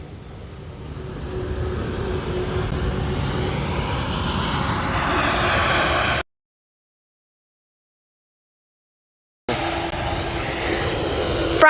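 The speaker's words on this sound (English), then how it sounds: "It's Boeing 787 Dreamliner, and it's TUI coming in from Aranestad." A TUI Boeing 787 Dreamliner lands at Amsterdam Schiphol Airport with a loud, rising jet engine roar close by. The roar cuts out to silence for a few seconds, then returns.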